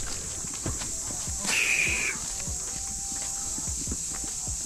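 A mare's hooves clop in a steady walking rhythm at rodeo grounds while she is led, close by and fairly soft, with a brief high whistle-like tone and low background noise.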